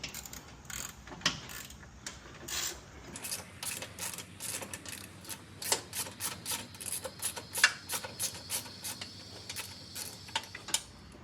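Screws being worked out of the bumper mount of a fog lamp on a Jeep Gladiator, likely 10 mm, with a run of close, quick mechanical ratcheting clicks and ticks in an uneven rhythm, no talking.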